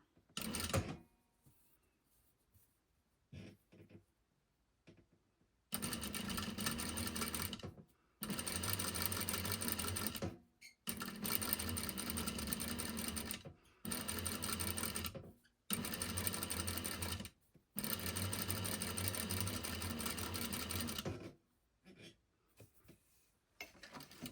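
A sewing machine stitching a welt pocket, running in several bursts of a few seconds each separated by short pauses, with quiet handling sounds before the first run.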